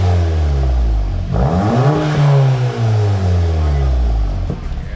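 A straight-piped VW GTI engine cranks and catches, then revs up and settles into a loud, deep idle close by, with people talking over it.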